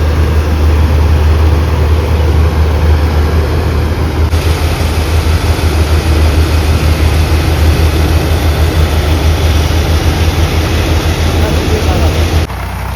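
A heavy tractor engine, hitched to a small trolley, is revved loudly and close, holding a constant low, rumbling drone the whole time.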